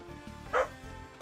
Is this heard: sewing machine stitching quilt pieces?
no